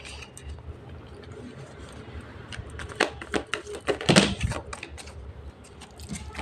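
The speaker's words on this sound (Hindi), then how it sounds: "जब मैं शफल करती हूँ आप लोग प्लीज़ कार्ड्स को देखा करिए" Tarot cards being shuffled by hand, a soft run of crisp papery riffles and taps that swells into a denser flurry near the middle, close and fairly quiet with no talk.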